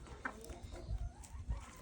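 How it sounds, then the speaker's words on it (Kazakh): Free-ranging farm chickens cluck softly outdoors on a quiet morning, a few faint scattered clucks over low ambient rumble, with ducks also let out nearby. "Қазір тауықтарымыздың барлығын, үйрек барлығын далаға шығардық"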